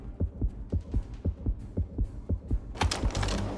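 Heartbeat effect from the video game Red Steel, a steady thumping pulse of about a dozen low beats, loud and close, with a burst of game noise swelling in the final half second.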